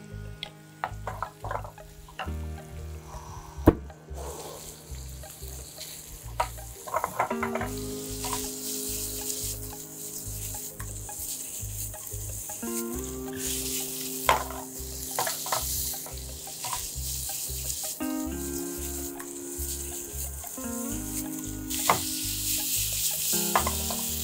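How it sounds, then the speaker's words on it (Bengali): Chicken pieces fry in a pan with a steady, bright sizzle, and rhythmic stirring scrapes and clinks throughout, close and moderately loud with no talking. "চিকেনটা একটু ভেজে নিলাম আমরা"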